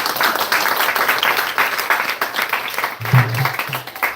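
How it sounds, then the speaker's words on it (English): A temple audience at a devotional class gives a big round of clapping, a thick, lively patter of many hands with a few quick swells, holding for about four seconds, with a brief low murmur near the end. "Let's give a big round of applause"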